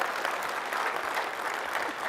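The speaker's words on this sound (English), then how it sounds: "That's totally worthy of applause." Audience applause at a tech conference session, a steady wash of clapping from a crowd, even and sustained throughout.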